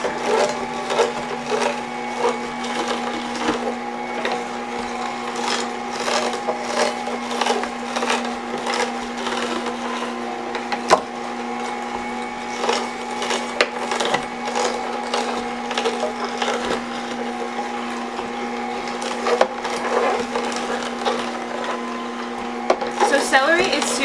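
Juicer running while juicing fibrous vegetables such as celery: a steady motor hum with continuous grinding and crunching throughout, and a voice talking over it.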